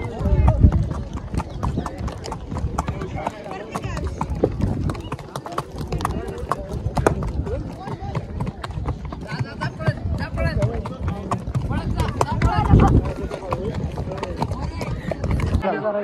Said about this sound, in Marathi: त्रिशा आमच्या घोड्यावर बसली आहे.